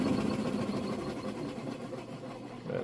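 A Maytag direct drive washing machine spins at speed with a smooth, steady mechanical whir and low rumbling hum, close and constant with no speech.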